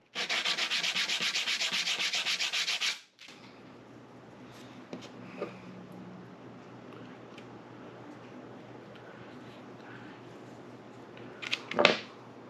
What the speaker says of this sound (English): Not much sanding needed.